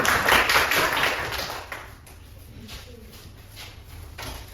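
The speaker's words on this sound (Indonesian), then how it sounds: "Sudah, tepuk tangan dulu untuk orang itu." Classroom students applaud for a group presentation: a burst of hand clapping that is loudest at the start, then thins out and fades to scattered claps.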